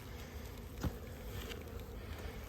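Honey bees at a commercial hive, low in number, make a faint, steady buzzing drone with a brief soft knock partway through.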